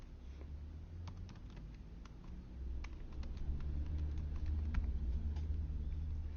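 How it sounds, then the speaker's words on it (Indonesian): Typing an account name on a computer keyboard, a run of light irregular key clicks over a low steady background hum, with no talking. "Ketikkan nama akun Anda."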